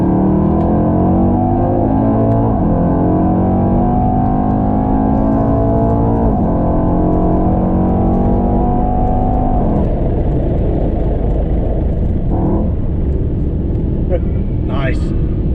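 A 2018 Mercedes E63s pulling hard in second gear, its loud engine drone rising steadily in pitch with brief dips at the shifts, heard from inside the car while people talk over it.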